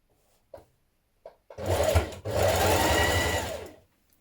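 Sewing machine stitching a blouse casing in place: a couple of soft clicks, then about two seconds of close, loud motor whirring with a brief break midway.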